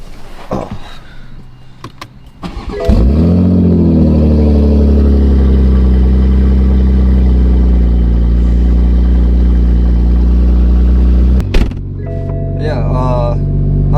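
Engine of an 800 whp MK5 Toyota Supra with a big turbo starts and settles into a loud, steady, deep idle drone, close by for about eight seconds, cutting off briefly before rumbling on again.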